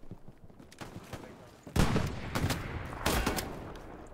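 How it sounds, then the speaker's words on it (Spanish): Bombardment of a chapel in the video game Hell Let Loose: rumbling explosions and bursts of gunfire, with a heavy blast near the middle and another toward the end, loud and close. "Estamos bombardeando la capilla."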